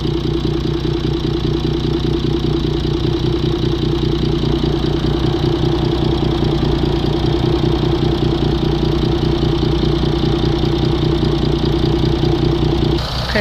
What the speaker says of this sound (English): we start the engine up, and I'm going to empty the rest of the contents while the engine's running